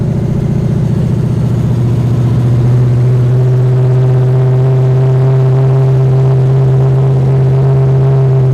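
A 1400-horsepower Buick Skylark engine on 30 PSI of boost runs steadily, a loud, close, deep droning hum with a rougher, lumpier stretch in the first few seconds before settling into an even tone.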